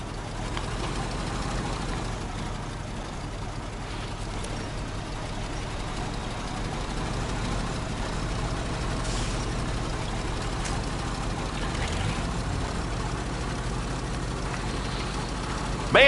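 Heavy truck engine droning steadily in SnowRunner on a rough off-road route, a low continuous rumble with no clear rises in revs.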